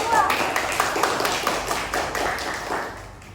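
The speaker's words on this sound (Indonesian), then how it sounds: "Tepuk tangan untuk kelompok" A class applauds a group after its presentation on waste recycling, with a steady patter of many clapping hands under ongoing talk that fades slightly toward the end.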